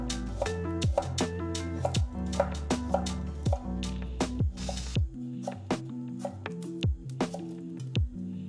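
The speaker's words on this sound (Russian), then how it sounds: "Галангал нарезаем произвольно." A knife chops galangal on a cutting board in a kitchen, a series of close, crisp thuds in an uneven rhythm with ringing tonal overtones, some strokes quick together and some spaced apart, with no talking.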